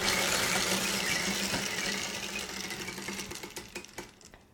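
A prize wheel spins with a dense whirring rush that gradually slows into distinct, spaced clicks as it winds down to a stop.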